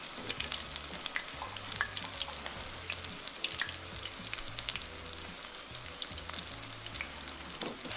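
Ground beef and potato taquitos fry in hot oil with a steady, dense sizzle and scattered sharp pops, continuous and close throughout with no talking.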